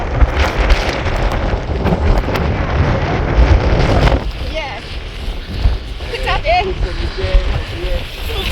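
Strong wind roars and buffets the microphone during an ATV quad ride at Safari Quads in Iceland, loud and constant for about four seconds, then easing into a lower rumble with faint voices.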